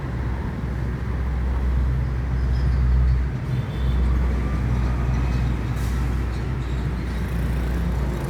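Steady engine rumble of a Sriwijaya Lestari bus, loud and close, a continuous low drone over general road traffic noise with a faint air-brake hiss near the end.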